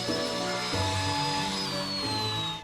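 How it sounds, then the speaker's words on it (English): Angle grinder fitted with a polishing blade smoothing the inside of a carved river stone bowl, a steady continuous whine with a sustained high tone and low droning body, close and loud throughout with no talking. "I changed the grinder's blade to a polishing one."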